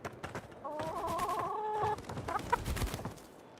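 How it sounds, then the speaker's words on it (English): Chickens cluck in the video game Avowed, a short run of rising, tonal clucks up close in the middle, followed by a few scattered softer clucks over faint game background. "Hello, chickens."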